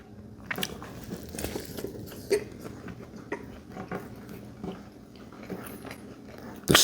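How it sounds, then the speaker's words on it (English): Crisp bites and moist crunching chews of a deli pickle, heard close up in a series of irregular snaps at low volume with no talking. "bite of the pickle"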